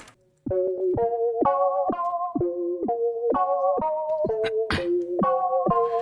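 A synthesizer preset plays a bright, plucky melody of short repeated notes with harmonic overtones, steady and fairly loud, with no voices.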